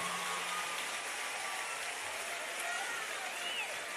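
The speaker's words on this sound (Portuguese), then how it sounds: "Universidade pública, gente, tem que aplaudir." Steady crowd applause fills a university gathering for a public university event, a dense even wash of clapping from start to finish with no pauses.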